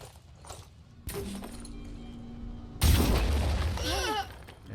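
Grenades explode in the tactical game Phoenix Point: one sharp blast, then a second, louder one that rumbles and crackles for over a second, with faint background tones and a rising whine near the end.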